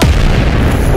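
A cannon fires with a single loud, close boom that fills the clip, followed by a sustained roaring wash of noise.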